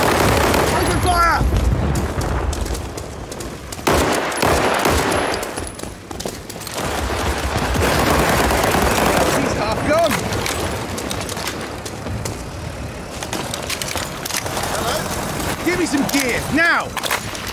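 Dense gunfire from the video game World War 3, with rapid machine-gun bursts, scattered single shots and booming explosions filling the whole stretch, loud and close, with brief game voice callouts in between.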